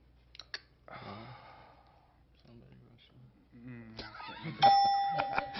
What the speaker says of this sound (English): The second bell went off.